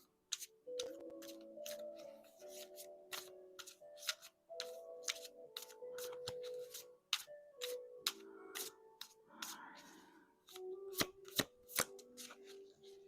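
Metatron oracle cards being shuffled by hand, with repeated crisp riffles and sharp card snaps in a steady rhythm, close and fairly quiet, with no talk.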